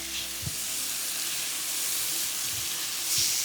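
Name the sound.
stirring lime juice into sizzling fajita chicken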